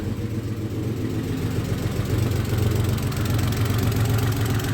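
A cold Audi 100 engine misfiring and running on one cylinder idles roughly and unevenly, with a low, lumpy throb that stutters steadily throughout.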